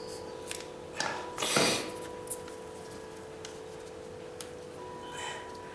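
Scissors cutting insulating material to fit around a light switch cover plate, heard as a few close, soft snips and rustles, with one longer scraping cut, over a quiet room hum.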